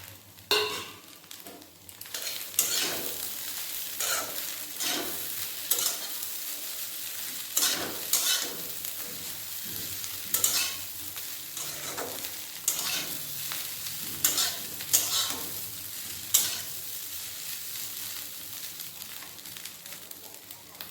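Pre-fried potatoes and fried fish roe sizzle together in a pan, stirred with repeated sharp scrapes and clanks of a spatula over a continuous close frying crackle.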